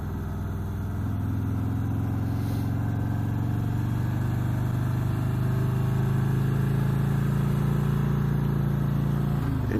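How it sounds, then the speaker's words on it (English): Steady deep engine drone of a Harley-Davidson Ultra Limited motorcycle with a Milwaukee 8 engine, loud and close, holding a low throbbing tone with a slight rise in pitch partway through, no talking. "Milwaukee 8 does have great engine braking."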